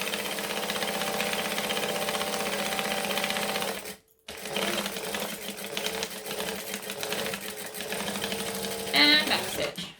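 Close, loud sewing machine running steadily as it stitches and back stitches fabric for a quilt, with a brief stop partway through before the motor starts again, then a small clatter near the end.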